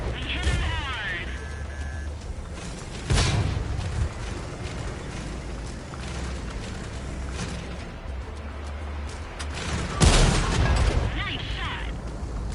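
Tank cannon blasts and shell impacts in the World of Tanks video game, two sharp loud booms about seven seconds apart over a constant engine rumble and battle noise, with a player talking throughout.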